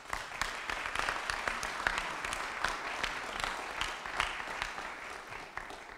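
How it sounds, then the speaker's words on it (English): Audience clapping at a St. Louis announcement of a minority contractor loan, a steady round of many hands applauding at moderate distance for the whole stretch, with no voices over it. "you all deserve a well round of applause for that"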